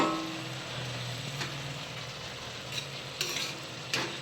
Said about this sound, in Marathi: आणि आता शेंगदाणे आपण मिक्स करून देऊ